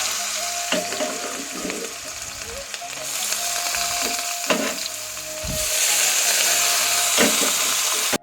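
Carrots hit hot white vegetable oil in a pan, a steady broadband sizzle that swells sharply midway and stays loud, with scattered clinks from the pan.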